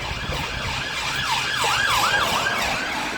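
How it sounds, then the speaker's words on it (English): A police car siren wails past in a steady rising-and-falling sweep, loud and close above a constant hum of road traffic, with no talking. "The police car passing by"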